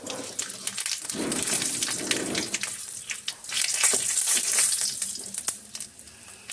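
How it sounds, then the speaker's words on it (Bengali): Panch phoron spices fry in hot oil for a traditional katla fish kalia: a steady, close sizzle with scattered crackles and clinks of a spoon or pan, no voices. "মশলাটা আমি একটু ভেজে নিচ্ছি।"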